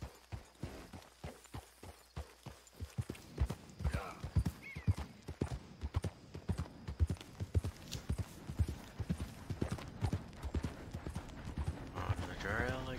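Horses in the Red Dead Redemption 2 video game clip-clop in a quick, uneven rhythm of close hoofbeats, with a brief whinny near the end and faint talk in the background.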